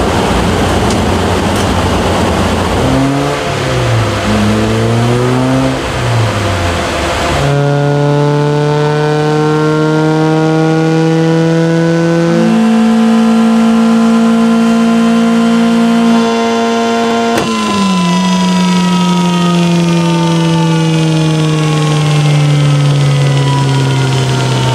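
A Megasquirt-tuned 1.6L Mazda Miata engine on a dyno gives a loud, sustained roar: an uneven rev at first, then long climbing pulls whose pitch rises steadily through the upper RPM range, with a short break before another run.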